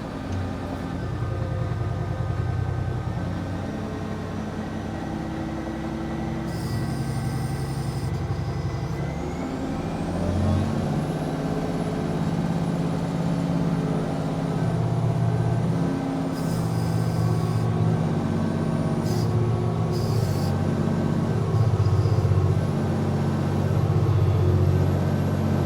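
A twin-engine earthmoving scraper in second gear, hitch dropped, working the edges to cut earth: a steady heavy diesel drone with a rising engine whine partway through, continuous and fairly close, with no voices.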